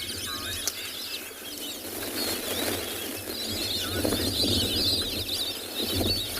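Many wings flap at once as a flock of white-faced whistling ducks lifts off in South Africa, a rushing flutter building over steady whistling calls in the background.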